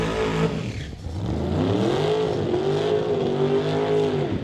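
Camaro drag race car with Artex Barnes and Total Dairy Solutions backing revs hard at a drag strip. The engine roars loudly and continuously, dips briefly, then climbs again in pitch with no talk over it.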